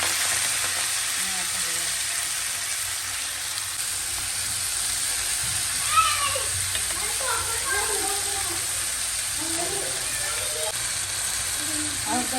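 Fenugreek greens and garlic fry in hot mustard oil in a pan, giving a steady, loud sizzle and hiss throughout with occasional stirring scrapes, while a voice talks over the cooking.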